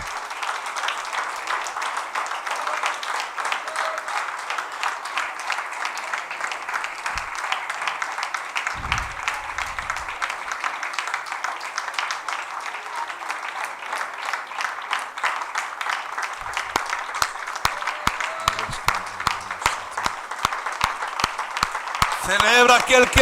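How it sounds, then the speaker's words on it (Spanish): A church congregation applauding during a service, sustained dense clapping throughout with voices shouting and talking over it. "Regálale un aplauso al Señor de señores."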